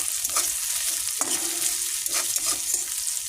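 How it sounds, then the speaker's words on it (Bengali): Ginger frying in a pan for a Bengali curry, a continuous hissing sizzle with a few spatula scrapes and stirring knocks, close and steady, nobody speaking. "আদা দিয়ে দিয়েছি খানিকক্ষণ একটু কষিয়ে নেব"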